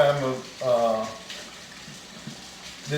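Hands washed under warm running kitchen tap water before cooking shrimp alfredo; a person talks over the start, then the steady hiss of flowing water carries on alone.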